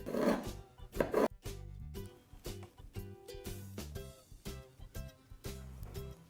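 A knife slicing through kimbap rolls on a cutting board, two sharp close chops followed by lighter rhythmic cuts, with background music underneath.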